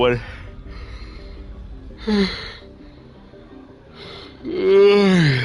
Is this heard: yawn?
yes